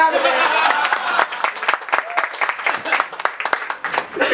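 A cabaret audience claps and cheers in a dense burst that gradually thins into scattered, uneven claps, with a voice briefly heard early on.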